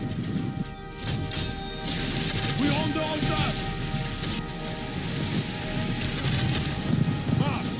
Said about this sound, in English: And cannon shots rip through the ranks of the pikemen, killing dozens with every shot.